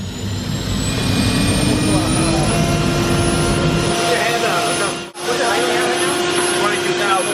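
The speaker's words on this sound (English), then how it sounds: "This is the Chrysler turbine car from 1963." A 1963 Chrysler turbine car sits idling in a garage, its turbine engine making a steady, loud jet-like whine and roar with a high rising tone, interrupted by one brief dip.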